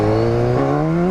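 The engine of a BMW S1000R motorcycle roars loudly and close by as it revs hard during a wheelie. The pitch climbs steadily through a brief, continuous burst, with no talk.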